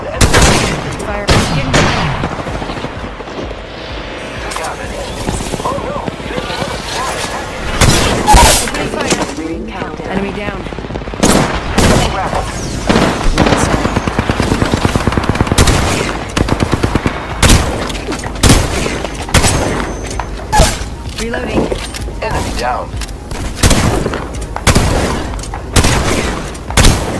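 Dense bursts of gunfire in Apex Legends, with rapid automatic volleys and sharp single shots tightly packed over a continuous loud battle din, and game voice callouts over the shooting.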